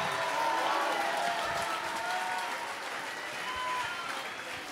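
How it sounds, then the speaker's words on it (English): Church congregation at an evangelistic revival service clapping and shouting together, a broad, sustained wash of crowd noise that fades slightly toward the end. "Clap your hands, all ye people, and shout unto God."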